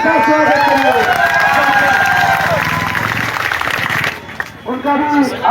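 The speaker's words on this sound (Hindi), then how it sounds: "सभी साथियों से बिना निवेदन का पंडाल में आ जाइए और इनके जोरदार तालियों के साथ स्वागत करिए।" A crowd at a political gathering of contract workers in Bihar, about the land survey, bursts into loud, dense applause for several seconds. Voices talk over it, the clapping fades near the end, and speech continues alone.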